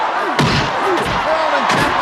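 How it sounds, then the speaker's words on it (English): Punches land as heavy thuds and slaps in a boxing match from the 1985 film Rocky IV, three sharp impacts spaced across the moment with crowd noise beneath. "These punches sound more visceral in this film."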